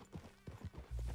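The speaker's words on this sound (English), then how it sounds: "Let's just ride the horse." Horse hooves clip-clop briefly and faintly during a ride in Red Dead Redemption 2, with a low rumble swelling toward the end.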